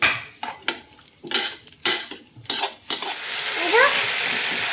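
A utensil scrapes and stirs grated egg into cooked masala in a pan, a series of close, uneven clinks and scrapes followed by a steady soft sizzle.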